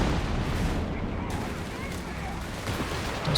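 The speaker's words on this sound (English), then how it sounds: "Trying to barrage out the back here, but the building catching the bishop shots." Artillery barrage from Bishop self-propelled guns in the strategy game Company of Heroes 3, a dense continuous rumble of booming shots and blasts, loud and steady throughout.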